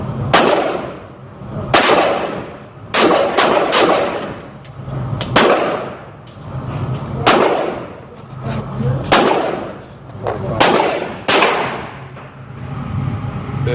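A semi-automatic gun fires about a dozen sharp, loud gunshots at an outdoor shooting range, some in quick pairs and others spaced a second or two apart, each followed by a short ringing decay.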